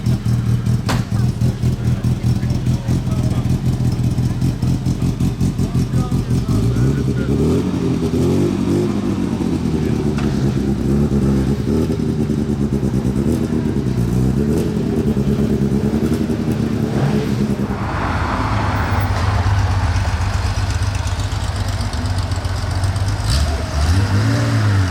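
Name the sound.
Porsche GT2 RS and GT3 RS engines revving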